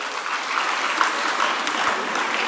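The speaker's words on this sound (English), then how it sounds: "Please, let's clap for the video." An audience at an annual public lecture on TVET transformation in Africa claps steadily, a dense, even wash of applause from a full room throughout.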